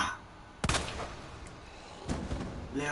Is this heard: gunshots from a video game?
yes